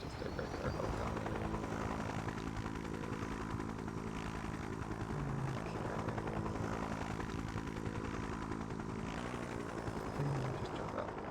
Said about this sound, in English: It's just a regular helicopter.